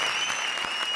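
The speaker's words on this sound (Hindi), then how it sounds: "जोरदार तालियां" A studio audience at a television comedy show bursts into dense, steady applause that lasts about a second, with a faint sustained tone above the clapping.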